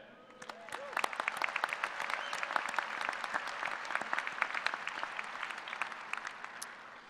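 A commencement crowd at a Kansas State University fall 2016 engineering ceremony applauds the student brass quintet, with steady, dense clapping that swells after a moment and stays even, and faint voices beneath it.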